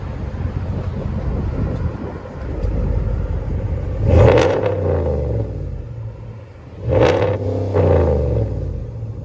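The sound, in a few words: Hemi V8 engine revving with exhaust tips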